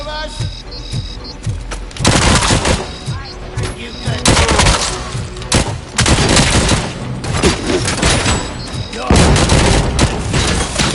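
Heavy gunfire rattles through a firefight in the video game RoboCop: Rogue City as snipers open up, with loud dense bursts and booming impacts overlapping under a voice.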